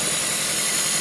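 A 2017 Hyundai Ioniq with a timing chain fault sits running while warming up, its engine giving a steady, even idle hum with no voices.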